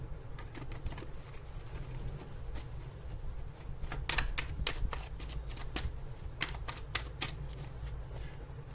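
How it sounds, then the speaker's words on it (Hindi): Tarot cards being shuffled and some turned reversed by hand, giving a run of quick crisp riffling clicks and snaps, faint and close, bunching into denser bursts in the middle and near the end. "मैं यहाँ पर कुछ कार्ड्स को रिवर्स करती हूँ क्योंकि हमेशा रिवर्स कार्ड आना भी सही है।"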